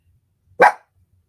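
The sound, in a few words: dog barking to go out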